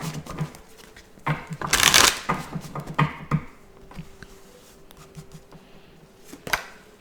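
A deck of tarot cards being shuffled by hand, crisp riffling bursts and soft card slaps in irregular clusters, close and fairly quiet, with no talking.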